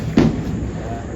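A single sharp Diwali firecracker bang goes off close by, a brief loud burst that quickly fades into background murmur.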